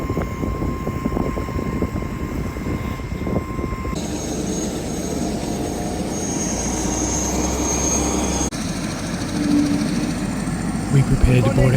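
Helicopters take off from the mountain airfield used for flights to Lukla, a steady engine and rotor roar filling the scene with crowd noise and talk mixed in throughout.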